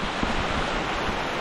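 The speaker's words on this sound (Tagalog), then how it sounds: "At tinudo naman tayo ng ulan." Heavy downpour over a rice field at planting time, a continuous loud hiss of rain hitting the surroundings, steady and unbroken with no talk.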